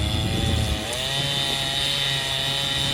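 Chainsaw cutting down a poplar tree: a steady, loud engine drone runs through the whole stretch, dipping briefly as the saw bites into the wood, with no voices.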